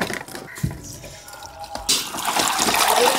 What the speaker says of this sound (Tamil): டேமில் வர மாதிரி வருது தண்ணி